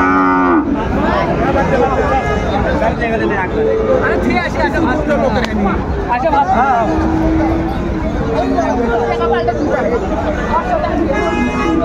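Sahiwal bull calves low and moo repeatedly at a cattle market in Sirajganj amid a noisy crowd of chattering people, the animal calls loud and close over the background babble.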